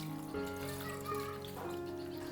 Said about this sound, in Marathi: आता हे पाणी घालून आपण धुवून घेऊया